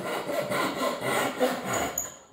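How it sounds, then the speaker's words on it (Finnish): Rhythmic back-and-forth strokes of a Japanese hand saw cutting wood for a door frame, close and steady, about two strokes per second with no talking. "nyt ei tarvi enää sitten kun tällä niin sanotulla Japanin sahalla tästä sahata."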